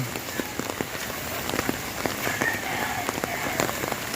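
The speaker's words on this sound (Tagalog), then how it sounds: "Oh, malakas pa ang ulan. Lumuulan pa." Steady heavy typhoon rain pours down, a dense hiss with scattered sharper drops and splashes tapping on nearby surfaces throughout.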